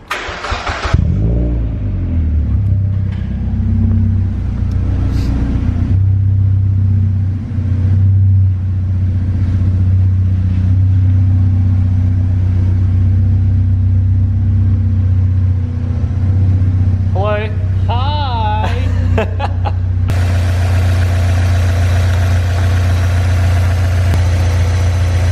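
Mazda MX5 with newly changed brake calipers running on a road test, its engine starting and then holding a steady, loud mid-pitched drone, with brief revving and a shift in tone near the end.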